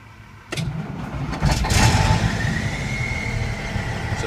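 A 1993 Western Star 59645S highway tractor's freshly rebuilt diesel engine cranks and fires, catching with a loud burst and surging before settling into a steady, rumbling idle close by.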